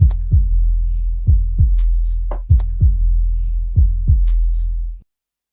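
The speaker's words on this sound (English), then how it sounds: "like heartbeat, pumping sound." Pulsating, heartbeat-like pumping sample from a hip hop track: deep, loud, booming double thumps repeating in a steady rhythm over a sustained low hum, then cutting off abruptly.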